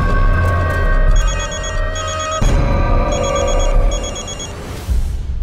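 Telephone ringing in a Hindi crime drama scene, a loud close electronic ring in repeated short bursts over a low background hum.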